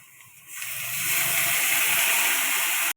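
Water poured into a hot pan of dhekia greens with turmeric and poppy seed paste sets off a sudden loud, steady sizzling hiss that holds for a couple of seconds, then cuts off abruptly.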